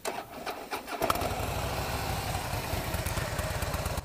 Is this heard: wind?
no